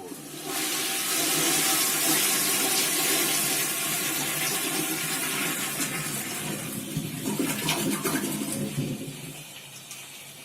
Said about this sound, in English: I'm going to flush it now to see how it turned out.